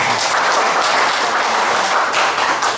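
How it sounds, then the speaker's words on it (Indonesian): An audience claps together at an LSM Cordova community event in Indonesia, giving a dense, steady round of applause that holds at full loudness for the whole stretch. "Ini tepuk tangan untuk Keramat."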